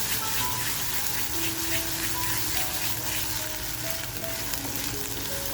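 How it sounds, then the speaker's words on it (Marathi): Masala is being stirred and roasted in hot oil for a village-style dried-prawn curry with drumsticks and potato, giving a continuous close sizzle and crackle like steady rain, with no voices heard. "त्याच्यामुळे छान असा आपल्याला हा मसाला परतवून घ्यायचा आहे."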